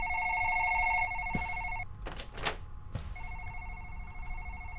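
A telephone rings in a German-language dream-themed video game, with two rings of steady harmonic trills separated by a pause, broken by brief clattering noises.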